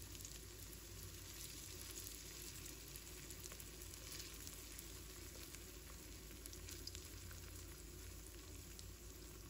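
Raw oysters spread flat in a pan of heated cooking oil fry over gentle heat, giving off a continuous soft, crackling sizzle that stays faint and even throughout, with no voices.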